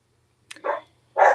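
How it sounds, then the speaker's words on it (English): A dog barks twice in quick succession indoors, sharp and fairly close, separated by a brief silence. "there's my dog barking"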